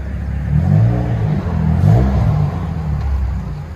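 Straight-piped inline-six exhaust of a 2014 BMW 535i turbo revving, a loud, close, rumbling burble that swells and falls over several throttle blips with no talk.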